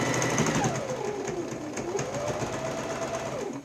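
A sewing machine stitches frayed, worn fabric in a steady mechanical whir that runs throughout, close and fairly loud, with a faint voice in the background.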